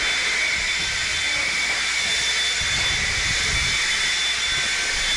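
A track blower jet dryer in a racing video game roars with a continuous broad hiss and whoosh at moderate level, joined by a low fluttering rumble midway.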